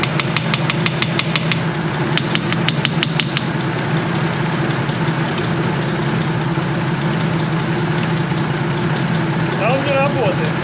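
A ZIL-157 truck engine idles with no load, a steady low rumble and rapid knocking, close by, with faint clicks and chirps over it.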